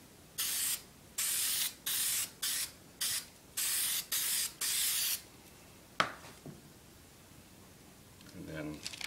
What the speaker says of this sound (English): I'll spray it lightly on the tracing paper.